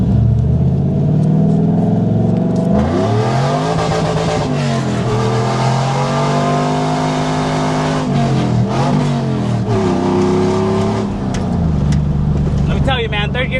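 Heard from inside the cab, a Chevy Silverado's 6.0 V8 with a swapped-in five-speed manual rumbles loudly and revs up and down through gear changes, its engine note rising and dropping over the whole stretch.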